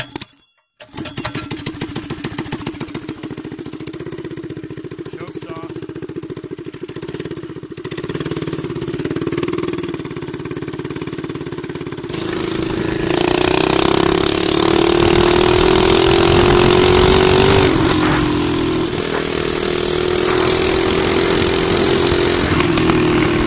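Modded Predator 212cc mini bike engine starting after a short pull, then running steadily nearby, its drone climbing and growing louder in the second half.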